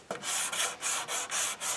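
Rhythmic hand sanding of primer on Cutlass car body panels, about six back-and-forth rubbing strokes of abrasive paper over a hard surface, close and steady.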